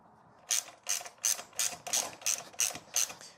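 A bolt is ratcheted into the subframe of a Kawasaki KLR650 motorcycle during engine guard installation, with about nine quick, even ratchet clicks close to the microphone and no talking.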